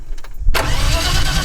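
An old car that has been sitting for a long time and is prone to backfiring cranks and then catches abruptly, its engine roaring loud and close right after a quiet start.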